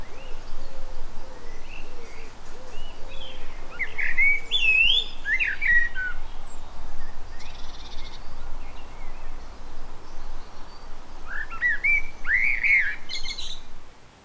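Garden birds, including a young sparrow drinking at a bird bath, give bright chirps and whistled calls over a steady rushing background, moderately near and continuous.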